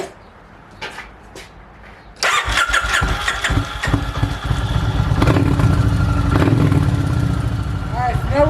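A 1996 Kawasaki Vulcan motorcycle engine cranks and fires after about two seconds of quiet, then settles into a loud, steady, slightly uneven idle close by.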